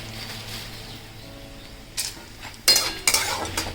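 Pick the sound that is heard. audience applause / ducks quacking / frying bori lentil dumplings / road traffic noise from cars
frying bori lentil dumplings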